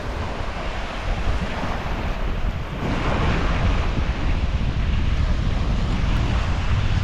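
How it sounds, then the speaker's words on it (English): Loud, roaring wind buffets the microphone over a steady rush of surf near the lighthouse at Cape Lookout, constant and dense with no voices. "It's very windy out here."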